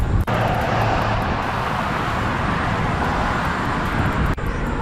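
Large vehicles roar past on a road beside a Ninebot Z10 scooter cruising at 22 mph, a loud continuous rush of engine and wind noise that fills the whole stretch.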